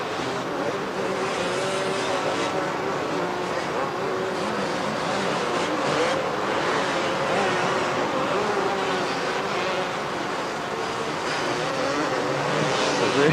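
Motorcycles racing on a bumpy beach course in 1989, a dense, continuous roar of many engines at middle distance, blended with wind and crowd noise and no clear pauses.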